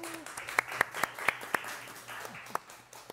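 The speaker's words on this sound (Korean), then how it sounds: "여러분 큰 박수로 맞아주시기 바랍니다" Audience at a televised political debate event welcoming a youth MC with clapping, sparse individual claps sharp and close over a thinner background of hands, brief and modest in volume.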